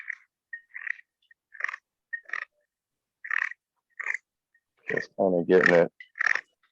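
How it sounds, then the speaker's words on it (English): A knife carves a walnut wood spoon in short, crisp, crunchy cuts, a series of separate near strokes with pauses between them, and someone speaks briefly over them. "And hear that crunchy walnut."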